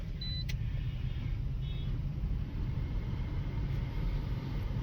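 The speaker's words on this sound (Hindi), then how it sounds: "तो गाड़ी को स्टार्ट करते हैं।" A Toyota Sienta Hybrid car being started, heard as a steady low engine rumble that holds throughout, with a few faint high chirps above it.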